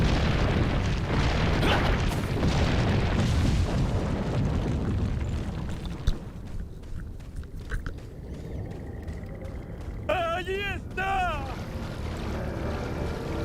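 A grenade blasts in Resident Evil 4, a broad loud rumbling roar that fills the first several seconds and slowly fades, followed by quieter game effects and a brief warbling creature cry near the end.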